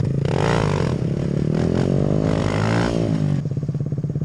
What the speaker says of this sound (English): Popping it! Popping it! try some uphill wheelies.